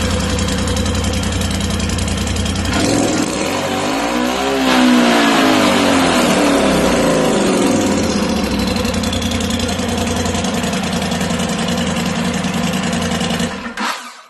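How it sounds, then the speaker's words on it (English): A 2017 Polaris RZR XP4 Turbo side-by-side with its stock exhaust idles loudly with a rumbling exhaust, revs up sharply and then settles back into a steady drone before cutting off abruptly. "This will be the factory RZR turbo sound test."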